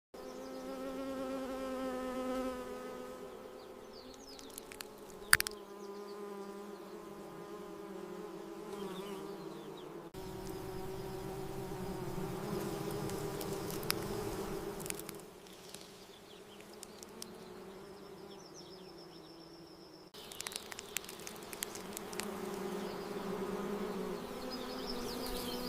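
Bees buzzing around blooming lotus flowers by a pond, several close, steady droning hums rising and falling in pitch as insects pass, heard alone with no voices.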